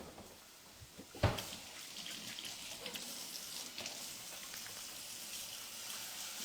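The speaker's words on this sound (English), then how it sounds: "I'm going to wash my hands real quick." Kitchen tap water runs steadily as hands are washed beneath it, beginning with a sharp knock and then settling into a constant, soft splashing hiss.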